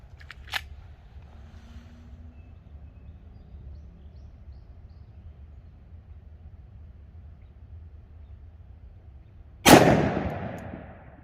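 A single sharp, loud 10mm pistol shot from a 1911 Colt Delta Elite with a 5-inch barrel rings out near the end after a quiet stretch, trailing off in a short echo; a faint small click comes early on.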